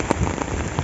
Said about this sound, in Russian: И дождь очень сильный.